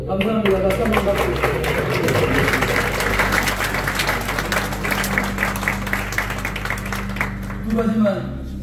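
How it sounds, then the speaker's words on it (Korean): Applause from the assembly at a presbytery meeting held in a Bucheon church, steady clapping lasting several seconds over a low continuous hum, with a voice speaking briefly near the end. "다시 한번 박수."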